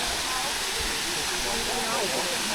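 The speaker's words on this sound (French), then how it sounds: "ça c'est une deuxième waterfall, une deuxième cascade d'eau, qui est très sympa" A waterfall on Koh Kood island in Thailand roars steadily and loudly, a dense broadband rush of falling water filling the whole clip.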